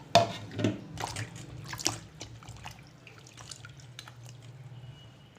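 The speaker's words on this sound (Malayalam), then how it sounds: "ഇനി നമുക്കിത് വെള്ളത്തിലിട്ട് നല്ലതുപോലെ കഴുകിയെടുക്കാം." Pieces of ash gourd are washed in water, with a few splashes and sloshes at the start, then soft intermittent drips and trickles close by.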